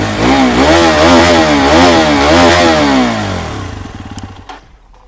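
A Hero Xpulse 210 motorcycle engine revs loudly and close, climbing and falling in pitch through several throttle blips before dropping back to a ticking idle that fades near the end.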